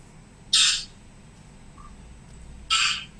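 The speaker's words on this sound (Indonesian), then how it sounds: "Suara burung ya?" A bird gives two loud, harsh squawking calls about two seconds apart against a quiet background hum, with no talking.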